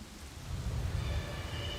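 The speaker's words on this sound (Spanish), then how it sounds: "Las nubes se condensan y se vuelven gotas de lluvia" Rain falling as a steady, close hiss of drops with a low, rumbling texture underneath. It stays constant and unbroken for the whole short stretch.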